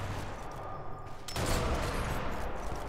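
Gunfire in the video game Sniper Elite 4: a loud, sudden burst of shots hits midway and leaves a sustained, echoing rumble after a quieter lead-in.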